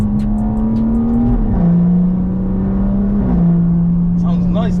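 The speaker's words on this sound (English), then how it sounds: "that 3 litre straight 6. It sounds louder" BMW M140i hatchback with a 3-litre straight-six and stage 3 big turbo, holding a loud steady drone that dips in pitch twice, close by, with a voice talking over it.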